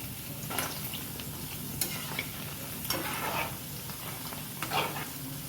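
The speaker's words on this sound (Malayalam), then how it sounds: "അപ്പോൾ നമുക്ക് മെല്ലെ ഇളക്കി കൊടുക്കാം കേട്ടോ" Beef dry fry masala, Kerala style, is slowly turned in a pan: soft, fairly quiet spatula scrapes every second or so over a low, steady sizzle.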